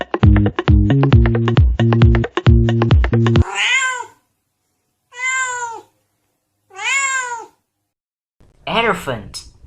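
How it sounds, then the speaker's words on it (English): Domestic cat meowing three times in clear, separate calls with short pauses between them, coming right after a burst of rhythmic music. A brief, higher-pitched animal cry follows at the end. "Cat, cat."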